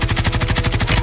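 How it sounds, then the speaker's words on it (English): An LMG fires continuously in a Call of Duty Warzone match, a loud, fast, evenly spaced stream of shots roughly a dozen per second, with no talking over it. "he's running the LMG"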